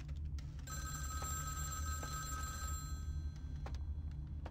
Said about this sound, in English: I gotta answer that phone somehow.